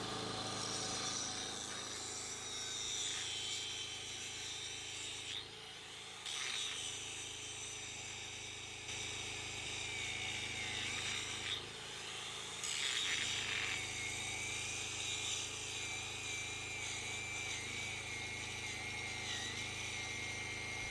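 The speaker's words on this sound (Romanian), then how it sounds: "Haideți să vedem ce se întâmplă în sarcină atunci când apăsăm tare pe polizor." An angle grinder pressed hard under load, powered by a Stager FD3000 generator, whines continuously with a steady engine drone beneath, the pitch dipping and recovering as pressure changes; fairly faint overall.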